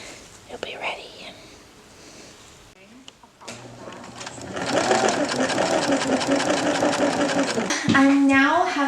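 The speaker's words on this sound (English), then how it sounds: "I'm now having to do a gathering stitch for the main skirt, top skirt, and for each layer of tulle" A sewing machine runs a gathering stitch through tulle layers for a toddler's silk party dress, whirring loud and close in the second half after quieter handling sounds, with soft whispered talk alongside.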